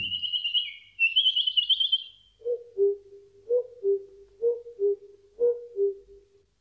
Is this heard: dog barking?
no